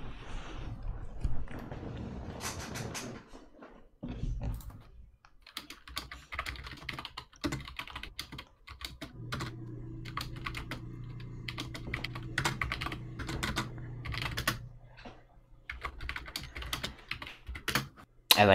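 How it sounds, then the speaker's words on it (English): Rapid clacking keystrokes on a loud computer keyboard, irregular bursts of typing with short pauses, close and clear, no one speaking over it. "I like that your keyboard's loud."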